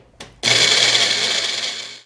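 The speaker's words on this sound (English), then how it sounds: "So I'm going to put it in the blender." A kitchen blender whirs loudly and steadily, grinding dry oatmeal into powder for a skin-soothing paste; it starts abruptly after a brief click and runs continuously, close by.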